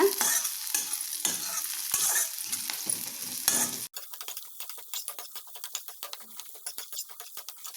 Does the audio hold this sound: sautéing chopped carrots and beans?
yes